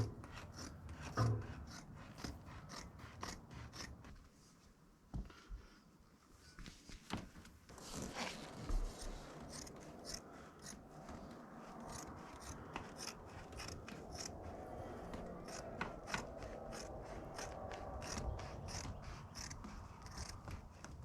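Scissors cut a window opening in yurt fabric with repeated snipping and rasping strokes, some quick bursts and some slower pulls, close and fairly quiet with brief pauses between runs.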